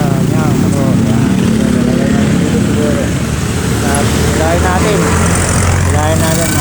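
A motorcycle engine hums steadily and loudly while the bike tows another motorcycle on a rope, its drone continuous beneath someone talking throughout.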